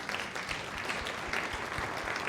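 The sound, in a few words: audience applause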